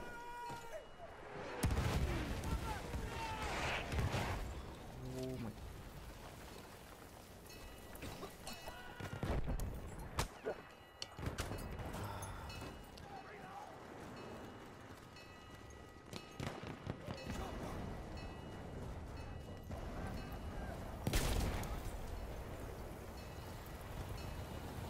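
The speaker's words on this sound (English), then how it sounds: "Enemy coordinates have been sent to our artillery." Artillery fire in the World War I shooter Battlefield 1, heard as several heavy booming bursts spread across the clip, around a moderate rumbling battlefield din.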